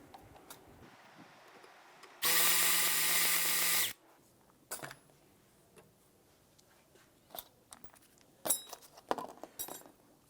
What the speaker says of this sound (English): we're going to go ahead and loosen and remove those bolts